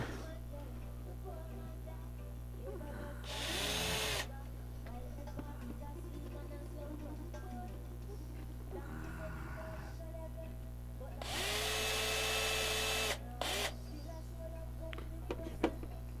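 A power drill drives screws into rubber matting on a micro sluice, giving two short whirring bursts with a quiet stretch between them.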